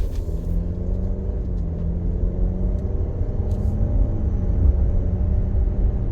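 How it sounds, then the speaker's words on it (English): Interior road noise from an Alfa Romeo Stelvio four-cylinder SUV cruising, a steady low rumble of engine and tyres with a faint hum, continuous and moderately loud. "Yeah, so I mean it's a pretty quick car."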